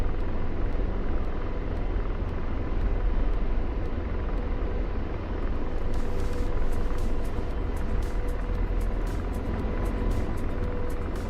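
A helicopter in flight, with a steady loud engine and rotor drone and a rapid, regular ticking of blade beats running through the whole stretch.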